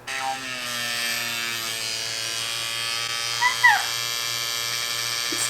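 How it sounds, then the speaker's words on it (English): A JuvaLips lip plumping device runs with a steady motorized hum and whine while suctioning against a hand, holding an even tone with a couple of brief squeaky pitch shifts near the end. "I want to try the suction on my hand real quick."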